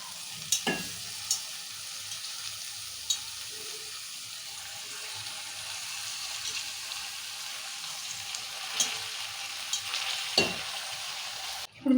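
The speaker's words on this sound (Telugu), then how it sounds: "ఇప్పుడు మెంతం కూర వేసుకుందాము." Fenugreek leaves sizzle steadily in a frying pan with salt, turmeric, ginger and garlic for a fenugreek and toor dal curry, with close scraping stirs and occasional sharp clinks of the utensil against the pan.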